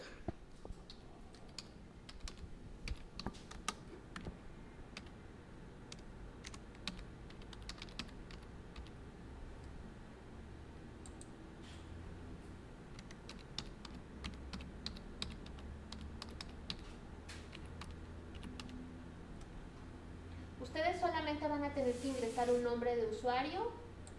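Someone types a password on a computer keyboard in quick bursts of soft, close key clicks. Near the end a person starts speaking over the typing.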